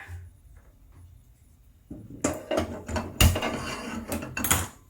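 Pressure cooker set down on a stove before mustard oil is heated for an Odia cabbage matar curry: quiet room tone, then a run of metallic clanks, knocks and rattles close by.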